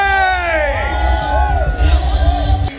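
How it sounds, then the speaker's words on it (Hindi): Guests clap and cheer at a lively Indian wedding varmala ceremony for Bhavik and Priya. Whoops and crowd hubbub rise loudly over music with sliding tones, and voices are heard in the mix. "जोरदार तालियों के साथ में जरा शोर मचाना है।"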